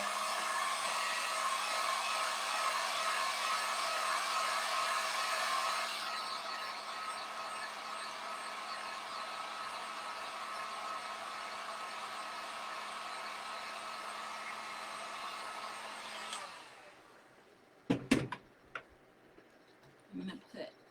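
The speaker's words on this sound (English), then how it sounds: "I'm going to go ahead and dry this with my heat gun." A heat gun drying paint on a mason jar cutout fall decoration blows a loud, steady hiss that runs for about sixteen seconds and then cuts off, followed by a few sharp clicks and knocks.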